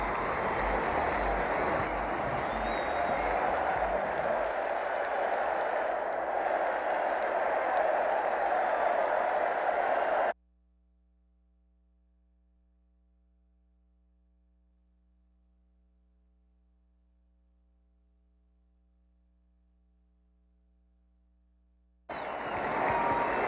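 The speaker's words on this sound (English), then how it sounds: "The crowd still roaring here at Fenway Park as we get ready to go into the 8th" Crowd roaring at Fenway Park during a Boston Red Sox vs. Minnesota Twins baseball game, a dense, steady roar for about ten seconds that cuts to near silence, then swells back at the end.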